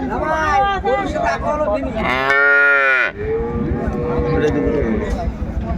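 At a cattle market in Jessore, a dairy cow and calf give a loud, drawn-out moo up close, with shorter lowing calls around it and people talking nearby.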